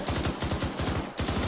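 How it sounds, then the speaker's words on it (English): Rapid repeated firing from a combat engagement with Marine Force Recon, a fast rhythmic series of thumping shots with a brief gap, fairly near and loud, no talk. "was that another one of those grenade launchers, you said?"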